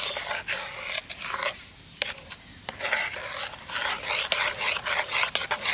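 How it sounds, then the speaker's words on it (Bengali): Onion mixture stirred into oil in a pot for a homemade hair oil, with repeated scraping and rubbing strokes in uneven bursts, close and fairly loud, with short pauses between. "এবারে এটাকে আমি তেলের সাথে খুব ভালো করে এইভাবে নেড়ে নেড়ে মেশাবো"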